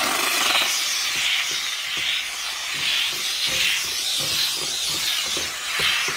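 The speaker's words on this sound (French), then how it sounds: "La vapeur. Juste détailing triple A, on est max. Là, on désinfecte tout." A steam cleaner hisses during triple-A car detailing of carpets and upholstery, making a loud, continuous close-up hiss that swells and eases in a steady rhythm for about six seconds, with no voices.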